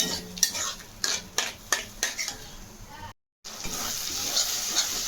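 Spice masala with yogurt frying in a pan for prawn dopiyaza, with rhythmic metallic scrapes and clinks of a spoon stirring over a steady sizzle, then a brief cut and a continuing hiss of frying.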